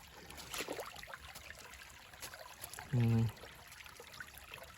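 Steady broadband rush of river water flowing downstream over a rocky riverbed, heard close and fairly quiet, with a short louder burst near the end.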